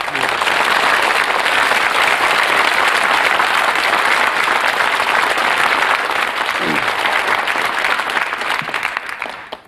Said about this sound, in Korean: 우리 노스님으로서 이런 작업에 몰두하고 계신 가산 스님에게 다시 한번 격려의 박수를 보내드립니다